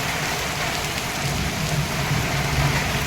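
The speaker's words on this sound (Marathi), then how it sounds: "जवळपास 1 तास झाला पाऊस चालू आहे आणि विजा चमकले" Heavy rain pours down at Pimpri Dukari in Jalna district during a thunderstorm with lightning, a loud unbroken wash of noise with a low rumble underneath that swells slightly toward the end.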